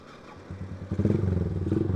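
A stalled motorcycle nicknamed "si kebo" is restarted on a village road: a low idle and a few thumps, then the engine catches into a close, rapidly pulsing putter that settles into a steady running beat.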